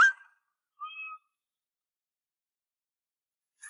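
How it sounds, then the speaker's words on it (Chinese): A pet kitten lets out a single short, high meow, close and clear, set between brief clicks and otherwise near-total silence. "他是我养的小猫，很乖的，"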